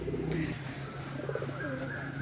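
Deshi Golla pigeons coo repeatedly while feeding together at close range, their low calls set against constant background noise.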